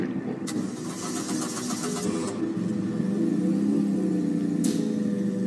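A vehicle engine in the Roblox game Taxi Simulator 2 starts up and holds a steady, rising whine and rumble, with brief sharp effects at the start and near the end.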